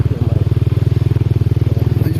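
A motorcycle with a fault, on a gravel road in a rural Sundanese village, chugs close by in a fast, even pulse of engine thumps that keeps a steady beat throughout.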